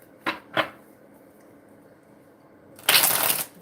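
Tarot cards shuffled during a reading: two quick riffling bursts, then after a quiet gap a louder, longer riffle of cards lasting under a second, close and with no talking.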